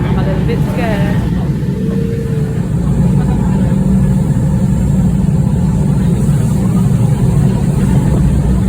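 A ferry's engine gives a loud, steady low rumble during a rainy crossing, with someone talking over it early on.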